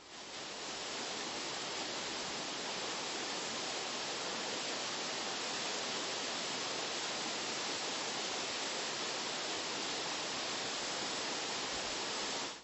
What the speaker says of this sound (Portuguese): A cachoeira que brota no alto das serras forma borbulhas de cristal entre os rochedos.